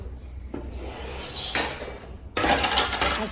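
Dishes, pots and pans being handled in a home kitchen, with clattering metal and clinking utensils coming in bursts that grow louder and busier toward the end.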